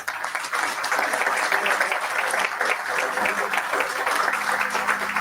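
Audience members at a local election debate in Santiago, Sesimbra, break into sustained applause, an even, dense roll of many hands clapping from start to finish.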